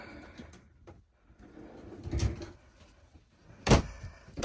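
Pull-out pantry drawers in a Grand Design Imagine 3170BH travel trailer sliding and thudding shut, a soft rumble followed by a sharp close, heard nearby in a quiet interior.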